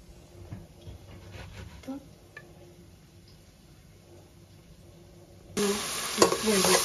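Onion, garlic and spices for a koi fish curry hit hot oil, bursting into loud, bright sizzling near the end after quieter stirring and kitchen clatter at the start.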